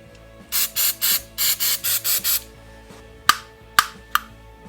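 Eight short even hissing bursts of throttle body cleaner sprayed onto an Arctic Cat ATV throttle body, followed by a few sharp clacks of parts being handled, close and clear.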